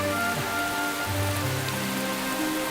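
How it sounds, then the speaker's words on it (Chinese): Rain falls in a steady, dense patter with no gaps, under a sustained tonal musical drone. "可是确实下雨了呀"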